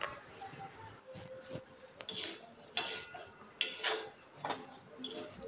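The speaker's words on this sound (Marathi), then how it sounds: "कमी गॅसवर थोड्या वेळ परतून घेते." Peanuts being sautéed in a pan on low gas, salt separating as they roast, with repeated scraping and clinking strokes of a utensil against the pan, moderately close over a faint background hiss.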